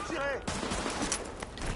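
An automated turret in the video game The Division fires rapid bursts of gunfire in an unbroken volley, loud and close, with a faint voice partly under it.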